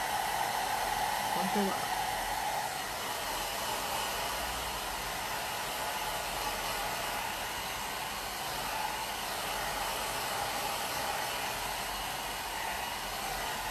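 A hair dryer blows steadily on a plaster craft piece, a constant close whooshing roar that holds unchanged throughout, with a few faint words spoken over it.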